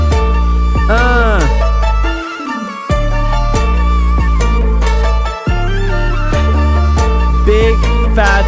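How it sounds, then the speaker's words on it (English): Modern K-pop beat with a big, fat 808 bass stacked on the low end, sustained heavy low tones under dense synths and melodic lines, running loud and continuous with two short drop-outs. "Whenever you want to do something modern, use that 808."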